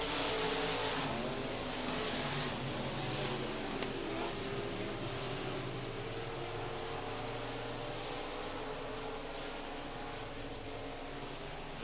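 Race cars circle the track at Rocket Raceway Park during a KR Cup event, a dense continuous engine roar from several cars at moderate distance, steady and unbroken.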